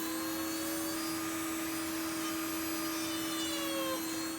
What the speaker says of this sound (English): I'm just going to take my Dremel and I'm going to carve out around that screw a little bit